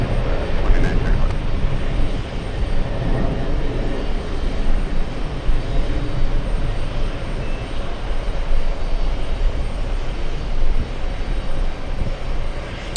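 A WestJet airliner's jet engines roar steadily at JFK airport, a loud broad continuous rumble that fills the whole stretch, with a voice talking over it.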